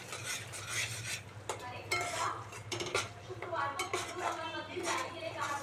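A spoon stirs a mixture in a pan before fish goes in, making repeated scraping and clinking strokes against the metal over a low steady hum, with a voice speaking faintly in the background.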